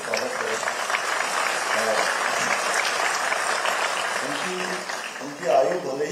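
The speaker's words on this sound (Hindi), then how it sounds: "मैं चाहूंगा कि एक बार जोरदार तालियों से स्वागत करें" Attendees at a gathering at an engineering college in Dehradun give a welcoming round of applause for BJP national president Nitin Nabin, steady moderate clapping with some voices underneath, fading toward the end before a brief louder burst.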